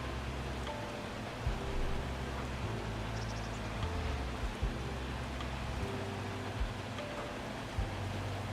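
Steady rain falls throughout in Farming Simulator 25, a dense, even hiss of drops with a low rumbling bed underneath and a few soft thumps, with no talk.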